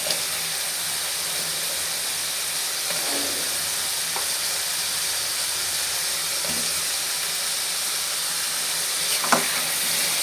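Sliced potatoes hit hot oil and spiced masala in a pan for fish curry, giving a steady, loud sizzle and hiss with a few soft stirring clinks and scrapes, no voices.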